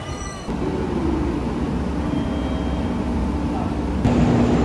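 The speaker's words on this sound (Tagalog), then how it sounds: "The train is here guys, 10 minutes early." A train pulls into a station in Japan, a steady mechanical rumble and rolling noise with a brief tonal squeal, heard amid crowd ambience on the platform.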